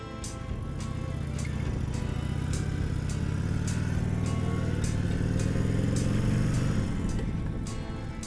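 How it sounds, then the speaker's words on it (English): Harley-Davidson Iron 1200 Sportster motorcycle on the move, giving a steady low engine drone with rushing wind noise that holds loud and unbroken throughout, with faint regular ticks above it. "I'm having fun right now because I'm riding a motorcycle"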